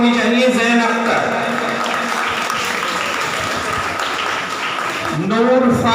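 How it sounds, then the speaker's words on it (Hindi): Audience clapping at a children's Qirat recitation competition function, a sustained round of applause from a crowd while someone speaks over it on a loudspeaker, with his voice rising again at the end. "आपकी ताली होनी चाहिए"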